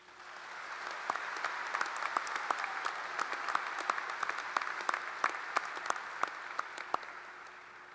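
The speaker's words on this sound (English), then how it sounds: "Please join me in giving them a round of applause." High school graduation audience applauding the class of 2025 in a large hall or arena, a broad steady clatter of many hands with some sharper individual claps standing out, swelling in and then tapering off.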